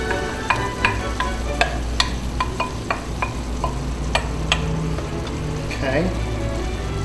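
Mushroom soup and broth go into a hot pan and are stirred with a utensil, giving a soft sizzle under a series of sharp scraping taps, close by, with a voice briefly heard.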